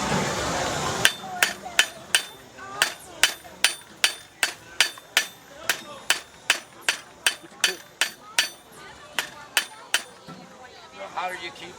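A blacksmith hammers hot steel on an anvil while drawing it out to a tapered point, about twenty sharp, ringing strikes in a steady, fairly quick rhythm, each blow loud and close with a short metallic decay.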